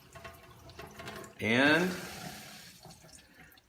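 Water from a faucet bursts out with a sudden gush and then settles into a steady, fainter flow as air is bled from a line during a system service, with someone speaking briefly.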